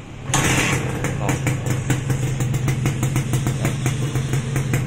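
A Suzuki Satria Hiu motorcycle engine fires up on one press of the electric starter, then settles into a loud, close, rapid and steady idle putter.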